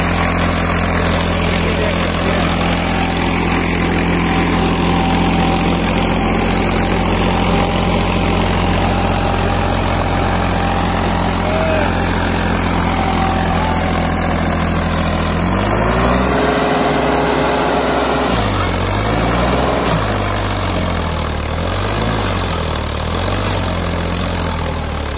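A heavy Powertrac tractor engine rumbles steadily and loudly throughout under test load, its pitch shifting and wavering near the end as the load changes; no talking.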